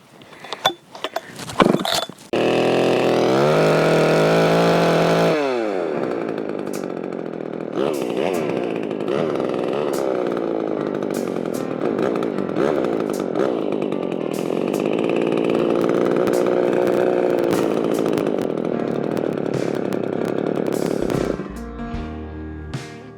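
A Husqvarna 266 chainsaw with a leaking fuel line is pulled over a few times, fires and revs loudly, then settles into a steady close-up run with wavering RPM before cutting off.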